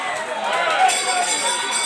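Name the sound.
audience cheering for fighters at a boxing fight night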